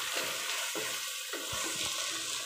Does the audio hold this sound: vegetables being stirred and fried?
yes